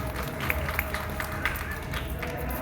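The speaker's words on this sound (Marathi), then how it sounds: "एकदा जोरदार टाळ्या होऊन जाऊन दे मनस्वीसाठी" An audience at a housing society event applauds a young girl's speech, a dense, continuous patter of many hands clapping at moderate volume.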